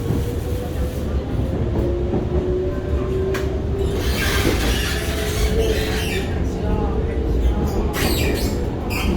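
R151 train cars 825/826 running from Bedok to Pasir Ris, with a loud rumbling ride under long, thin, high wheel squeals that come and go across the span, plus faint talk inside the carriage.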